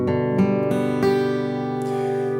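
An acoustic guitar sounds a chord from a song, picked through a few quick string hits and then left to ring out loud and sustained, with no voice over it.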